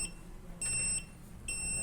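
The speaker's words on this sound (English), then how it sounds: "Now you can hear buzzer is beeping faster as I have reduced the delay seconds to 500 milliseconds" An electronic buzzer in an Arduino circuit gives two short, faint, high-pitched beeps a little under a second apart over a low background hum.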